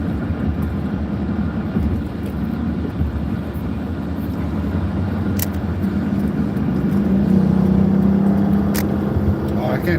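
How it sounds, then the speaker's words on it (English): Steady road traffic rumble heard from inside a vehicle driving back from the city, a continuous low drone that swells slightly toward the end, with a tonal engine hum appearing midway and no clear speech over it. "Oh, I can't stand the traffic."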